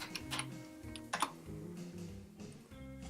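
A short command typed on a computer keyboard at a host PC, a quick run of close, crisp key clicks in an irregular rhythm, quiet and with no voice.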